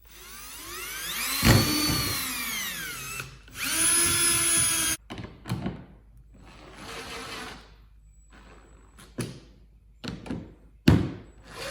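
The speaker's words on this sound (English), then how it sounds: "and we'll drill the rest." A power drill whines up in several bursts while mounting gear on a Pelican Summit 100X kayak, revving and stopping repeatedly, with clunks and handling noises between runs.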